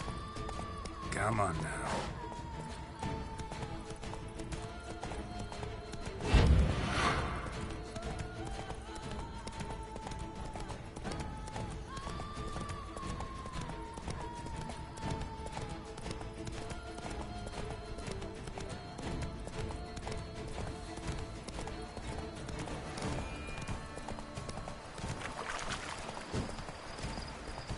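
Hoofbeats of the horse Roach galloping in The Witcher 3, a steady rhythmic clip-clop running throughout, with a voice speaking over it now and then.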